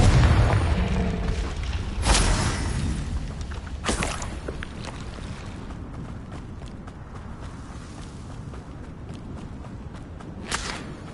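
Fiery blasting spells boom out in a fantasy wizarding-school action game, with a heavy low burst near the start, sharp cracks around two and four seconds, then a rumbling, crackling battle bed and a final snap near the end.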